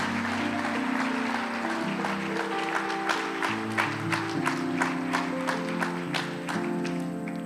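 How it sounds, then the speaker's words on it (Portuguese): Church congregation at a Sunday morning service claps along in rhythm, sharp regular claps over sustained organ or keyboard chords that carry underneath throughout. "Vamos aplaudir o Senhor."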